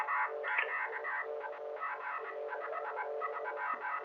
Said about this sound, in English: CW tones there in the break of your transmission.